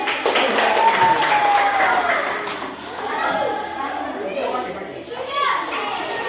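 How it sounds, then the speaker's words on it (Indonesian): A classroom of children claps and cheers together, a busy burst of applause mixed with excited young voices and chatter. "Oke, tepuk tangan."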